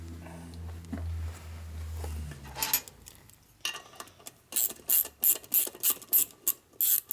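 A wrench ratchets a stubborn nut loose on a 1961 Harley-Davidson FL 74ci panhead motor during a rebuild, giving a series of sharp, close metallic clicks that quicken into a steady rhythm after a quieter scraping start.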